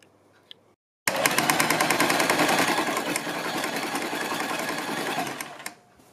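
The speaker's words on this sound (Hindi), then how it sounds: "बिल्कुल इसी क्रीज पर हमें इसके ऊपर सिलाई लगानी है" A sewing machine stitches along a folded fabric crease on a kurti, starting after a short silence and rattling rapidly and loudly for about five seconds before slowing to a stop.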